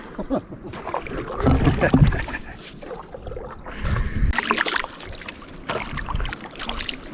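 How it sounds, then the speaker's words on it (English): Paddle strokes dip and swirl through the water beside a canoe on a calm early-morning lake on the Cedar Lake loop in Algonquin backcountry, coming in a few irregular bursts with light wind in the background. "I should help Josh paddle though."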